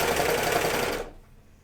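A sewing machine stitches a seam on a pair of Hudson pants in one close, fast, whirring run lasting about a second before it stops abruptly into quiet.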